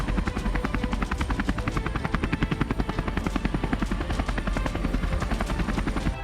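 An Indian Air Force light attack helicopter flies close and loud, its rotor blades thudding in a fast, steady chop over a constant engine whine that stays level throughout.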